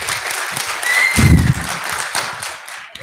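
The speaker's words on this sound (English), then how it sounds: "So I'll just leave the stage for him with a round of applause." Audience applause at a lecture on career planning and the future of jobs, a loud, continuous crowd of clapping hands that swells briefly midway, with a low thump underneath and no talking.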